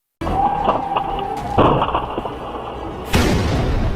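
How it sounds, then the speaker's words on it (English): Truck crashing into a bus with a massive explosion, sharp loud booming bursts in quick succession, the strongest hitting near the end, close and harsh. "After the collision, the vehicles slam into a bus, causing a massive explosion"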